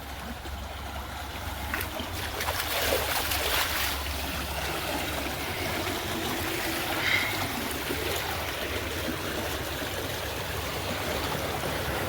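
Irrigation water from a farm motor rushes steadily along a channel toward a maize field, a continuous close, even outdoor flow with no talk.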